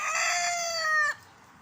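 A rooster crows once, loud and close, in a drawn-out call that cuts off abruptly, followed by quiet.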